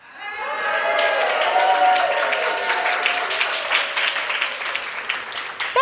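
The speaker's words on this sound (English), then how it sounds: "Can you say hi and cheer?" A whole room of seminar attendees cheers and applauds on cue at a keynote event, a dense, sustained roar of clapping and shouting voices that swells quickly and holds steady for several seconds.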